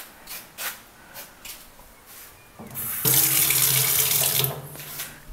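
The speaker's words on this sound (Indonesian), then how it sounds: "Okay, ni ada sinki untuk membasuh." A campsite kitchen sink tap running with hill-sourced water, starting with a trickle and then a steady, close, loud gush that holds for a couple of seconds before shutting off, with no talk over it.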